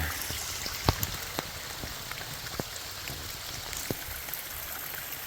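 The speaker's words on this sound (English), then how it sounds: "Quite the stream going on here, running down the mountain." Rainwater runs as a stream down a steep mountain trail, giving a steady, fairly soft hiss of flowing water with scattered sharp drip and splash ticks over it and no voices.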